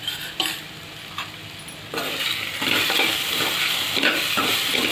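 Potato and capsicum pieces fry in hot oil for a Marathi mixed bhaji while being stirred, giving a steady close sizzle that grows louder partway through, broken by repeated scraping strokes of the spoon against the pan.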